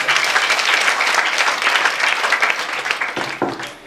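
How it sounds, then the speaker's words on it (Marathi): A kirtan audience at a Guru Purnima gathering in Shri Kshetra Maveshi claps in a dense, steady burst of applause. It stays loud throughout and thins slightly at the very end. "माझ्याकरता टाळ्या वाजवा"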